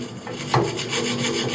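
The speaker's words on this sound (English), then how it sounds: "Keep cutting and then turning. That part will cut." A hand fretsaw cutting through wood with a continuous close rasping scrape, the blade grinding steadily through the piece with a brief accented stroke near the start.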